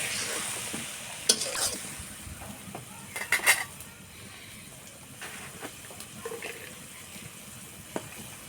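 Dried tengra fish stir-fried in a pan, a soft steady sizzle under scraping and clinking of a spatula against the pan, with sharper metallic taps now and then, no talking.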